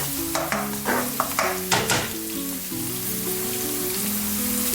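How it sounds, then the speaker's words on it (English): Onion and garlic frying in a pan while being stirred, giving a steady sizzle with several scraping stir strokes early on over a hum of background tones. "And then stir. Onion and garlic."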